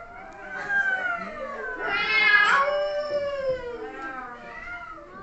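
Children's voices mimic cat meows in overlapping, wavering wails that swell and fade, close by and fairly loud.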